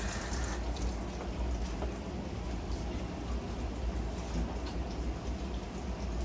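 Water running from a kitchen tap while a glove is rinsed off under the stream, a steady, faint splashing hiss throughout, with no talking.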